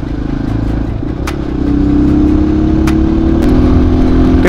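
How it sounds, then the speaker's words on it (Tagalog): A pair of 150cc machines, a motorcycle and an adventure scooter, idle and rev close by, a steady mid-pitched engine drone that rises and thickens partway through, with a few sharp clicks. "yung mga motor namin pare-pares ng CC 150, kaya lang magkakaiba yung category"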